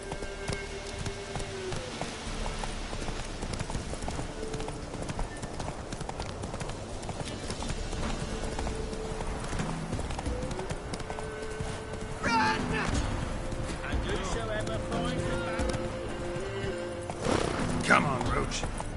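Roach the horse gallops in The Witcher 3, hoofbeats clip-clopping in a quick steady rhythm under game music and ambient effects, with a voice urging the horse on now and then.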